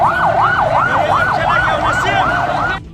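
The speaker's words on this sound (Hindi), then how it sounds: "थोड़ी देर में होटल के सामने एम्बुलेंस की लाइन लग गई, जिसके बाद पूरे इलाके में सायरन की आवाज गूंजने लगी।" Ambulance sirens wailing in a fast, regular up-and-down sweep outside a hotel after a chemical tanker fire, loud and close over low traffic rumble, cutting off abruptly near the end.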